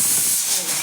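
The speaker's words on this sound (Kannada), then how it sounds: "ವಿಷಲ್ ಕೂಗ್ತಾ ಇದೆ, ರೈಸ್ಗೆ ಇಟ್ಟಿದ್ದೀನಿ, ವಿಷಲ್ ಕೂಗ್ತಾ ಇದೆ." A pressure cooker whistles while cooking rice, a loud, continuous hissing blast of steam, close and brief.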